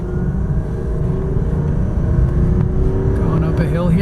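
A 2001 Lexus LS430 with the Ultra Luxury Package drives up a hill, with a steady, loud engine and road drone from inside the cabin that swells slightly as it climbs.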